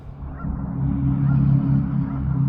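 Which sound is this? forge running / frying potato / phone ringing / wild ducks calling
wild ducks calling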